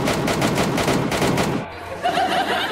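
Rapid bursts of automatic gunfire in a Minecraft battle rattle loudly and continuously for about a second and a half, then break off into scattered quieter shots and game noise.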